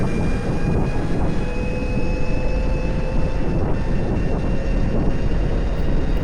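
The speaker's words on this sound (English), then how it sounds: "This high-pitched noise for the mid-drive coming just makes it feel faster" A steady high-pitched whine from a Krusade Monster electric pocket bike's mid-drive motor runs over a continuous broadband roar of wind and rolling, sustained and fairly loud throughout.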